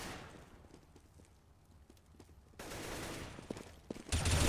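M4A1 rifle fire in a Counter-Strike match, heard as a series of quick, sharp shots beneath crowd and game ambience, growing denser and louder toward the end.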